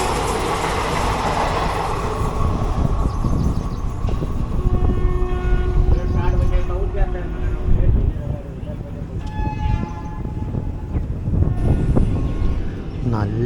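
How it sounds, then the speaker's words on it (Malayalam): The Palakkad Town–Trichy Express rumbles past close by in a loud, continuous roar of wheels and carriages, with faint horn tones rising through the noise. "പാലക്കാട് ടൗൺ ട്രിച്ചി എക്സ്പ്രസ് ആയിരുന്നു."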